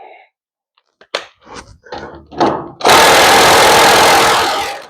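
Pneumatic air impact gun hammering at bolts on a vehicle frame during restoration work, a loud continuous rattling burst close by lasting about two seconds after several short clanks and handling knocks.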